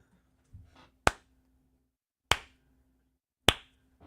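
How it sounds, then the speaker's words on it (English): Sharp single hand claps for an audio sync test, three crisp, isolated claps spaced about a second apart in a quiet room, close and loud against near silence. "Give us one clap."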